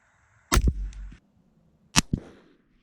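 Two 6.5 Creedmoor rifle shots about one and a half seconds apart, each a sharp, loud crack followed by a short echoing boom and decay, with nothing else between them.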